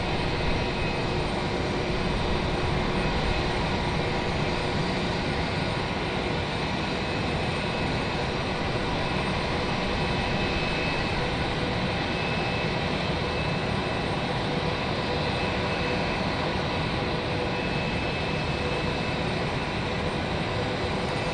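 An American Airlines jet takes off at Raleigh-Durham airport, giving a loud, continuous engine roar that fills the whole stretch without letup, with no voices over it.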